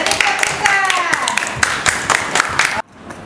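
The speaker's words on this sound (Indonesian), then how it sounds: "beri tepukan" A classroom group of children claps for the red team, a burst of dense, uneven hand claps with some voices mixed in, ending abruptly into near silence.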